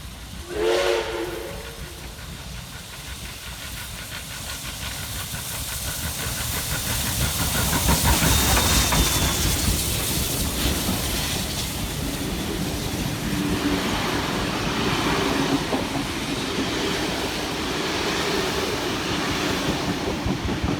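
A locomotive on a transfer run from Wollongong toward Campsie passes at Alawa, its whistle sounding briefly at the start before a long, steady roar of engine and rushing noise swells and holds.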